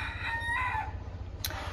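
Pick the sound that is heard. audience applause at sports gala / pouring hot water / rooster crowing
rooster crowing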